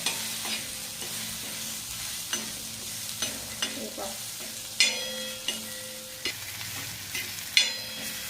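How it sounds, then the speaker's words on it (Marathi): Turmeric being stirred into a mashed mung bean chutney mixture, a spoon scraping the pan in repeated strokes over a low, steady background sizzle, with no talking. "थोडीशी कलर येण्यासाठी हळदी घालायची आणि असं हलवून घ्यायचं"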